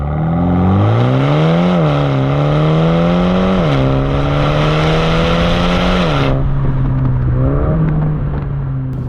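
A BMW M135i's engine and exhaust, heard from a camera mounted at the rear, rev loudly through climbing gear pulls with brief dips at each shift, a close, continuous roar with no talking.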